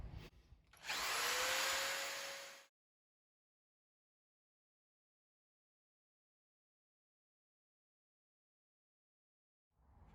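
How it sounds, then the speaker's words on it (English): A power drill whines up and bores a pocket hole for about two seconds, then cuts off into silence before briefly starting again at the very end. "So I'm going to drill some more pocket holes here."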